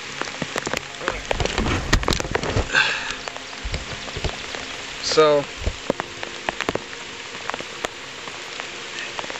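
Rain patters steadily on a pine-bough survival shelter in the woods, a dense, close drizzle of drops with a few heavier splats, and a voice briefly speaks over it.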